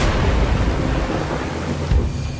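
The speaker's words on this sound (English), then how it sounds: "A soothing breeze may grow into a squall, drowning the island in lashing rain." Storm in a video game, with heavy rain hissing steadily and a low rumble of thunder rolling underneath, loud and close throughout with no voices.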